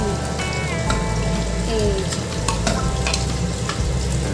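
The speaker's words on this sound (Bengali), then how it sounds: "এখানে যে মাছ ভাজা বসিয়ে দিয়েছি" Fish sizzles steadily in hot oil in a pan in a home kitchen, a continuous crackling fry with occasional sharper pops over a low background hum.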